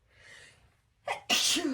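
A single sharp sneeze from someone drawing a portrait at home, close and loud: a faint breathy intake, a short catch, then the explosive burst.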